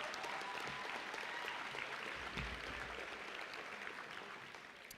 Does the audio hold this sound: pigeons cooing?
no